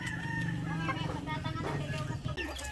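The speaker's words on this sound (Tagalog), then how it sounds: "Ganun lang pala kasimple manghuli ng manok ngayon." Native chickens cluck after being caught on a Filipino farm. The fowl sounds are close and continuous and are mixed with a voice talking over them.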